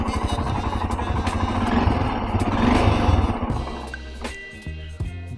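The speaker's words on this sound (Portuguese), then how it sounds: "O starter para ligar esta moto é só" A motorcycle engine running close by, revving with a rising, buzzing drone before dropping back to a steadier, lower idle.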